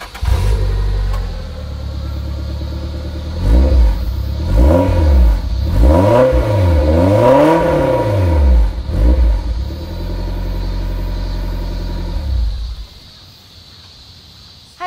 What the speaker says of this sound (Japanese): 早速、マフラー音を聞いていきたいと思います。